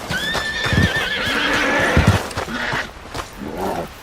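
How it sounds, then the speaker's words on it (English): Agitated horses in Red Dead Redemption 2 let out a loud, shrill whinny, then snort and shift with clip-clopping hooves, followed by fainter snorts. "First, let's calm these horses who will continue to freak out."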